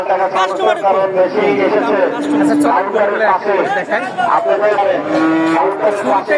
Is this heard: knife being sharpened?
no